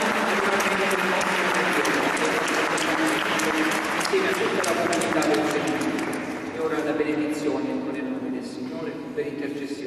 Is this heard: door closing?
no